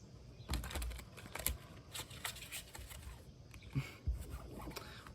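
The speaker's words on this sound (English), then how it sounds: "One more shuffle." Tarot cards being shuffled by hand, with a crisp riffling and slapping patter in bursts close by, several sharp flicks and taps standing out over the quiet room.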